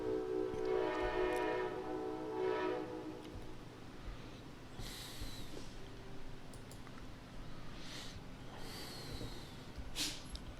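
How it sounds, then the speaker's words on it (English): Passing train, with a loud blaring horn in several long blasts at the start, then a distant rumble, squeals and short whistle-like tones as it moves by. "Let's let that train pass."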